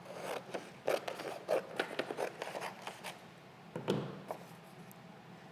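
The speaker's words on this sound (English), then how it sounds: "I'm gonna use my pink paper and cut this in half." Scissors cut through pink paper with a rapid run of crisp snips and rustling scrapes close by, then a louder slicing stroke and fading paper rustle.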